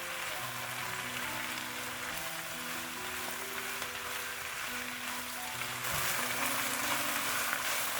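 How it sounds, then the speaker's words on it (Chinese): Napa cabbage is stir-fried in a wok over high heat. A continuous loud sizzle and crackle runs throughout and grows slightly stronger near the end, with no talking. "这里一定要大火翻炒"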